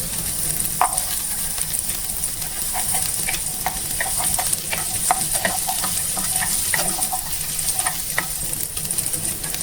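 Shallots sizzle steadily in hot oil in a pan for a prawn chammanthi, with scattered stirring clicks and scrapes over a constant bright hiss.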